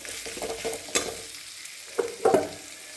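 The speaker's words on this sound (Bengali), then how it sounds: "মশলা ভাজা হয়ে গেছে, এখন এই চিংড়ি মাছগুলো দিয়ে দেবো।" Small shrimp stir-fried in already fried spices in a pan, a soft sizzle punctuated by a few sharp scraping stirs of a spatula, close and fairly quiet, no one talking.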